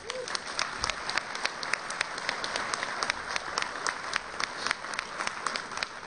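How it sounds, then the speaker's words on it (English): Sustained audience applause fills a large convention hall at a public works congress opening ceremony in Anaheim, steady dense clapping throughout with crisp individual claps standing out, loud and continuous with no talk over it. "So please give them a round of applause."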